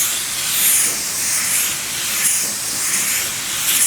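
A spray gun lays automotive clear coat at around 29 PSI with fan and fluid wide open. A steady, loud, close hiss runs throughout and swells slightly with each pass, with no talking.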